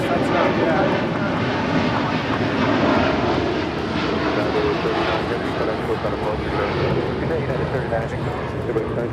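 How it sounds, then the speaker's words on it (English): A United Airlines Boeing 787-10 Dreamliner jet departs LAX for Tokyo Haneda. A loud, continuous engine roar runs throughout with an even, sustained rumble, and voices can be heard faintly beneath it. "This is United Flight 39 departing to Tokyo Haneda on a 787-10 Dreamliner"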